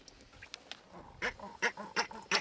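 A duck quacks in a rapid series of four or five nasal honks near a farm tractor. Before that come fainter scattered clicks and rustles against a quiet background.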